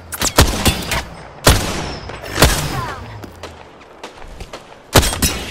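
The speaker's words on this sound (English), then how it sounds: "Shots fired." Loud, sharp gunshots in a video game, scattered single cracks and small clusters with irregular gaps between them over a few seconds.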